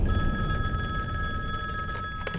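A telephone bell rings with a bright sustained tone over a low rumbling background, then breaks off near the end.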